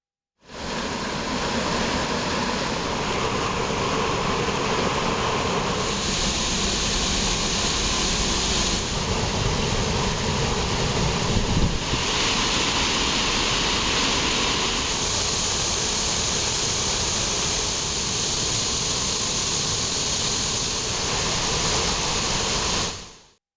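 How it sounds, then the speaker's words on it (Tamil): Thirparappu waterfall in Kanyakumari district swollen after heavy rain, a loud, continuous broadband roar of gushing water that holds steady throughout with no voices. "திருப்பரப்பு அருவியிலும் தண்ணீர் ஆர்ப்பரித்து கொட்டுவதால்"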